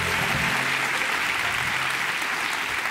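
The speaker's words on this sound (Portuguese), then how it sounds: "E para Jesus, pessoal, uma salva de palmas." Dense, steady applause from a church audience at a televised worship programme, sustained and even throughout with no break, many hands clapping together at close range.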